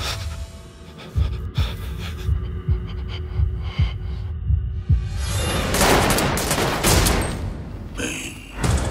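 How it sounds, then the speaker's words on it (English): Revolver gunshots in a tense betting scene from the 2010 thriller 13, a run of heavy low thuds under a dramatic score, swelling into a dense loud crash of sound near the end. "When the bulb lights up, you shoot!"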